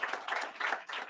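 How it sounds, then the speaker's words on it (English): Audience clapping for students at a college seminar, a moderate crowd applauding in uneven bursts that swell and dip, fairly close and without talk. "So let's have a big round of applause for the students' efforts"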